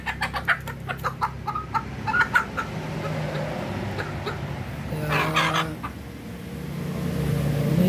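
Native chickens cluck steadily at close range, with a burst of louder squawking midway as the flock pecks at one another, and a faint rooster-like call rises near the end.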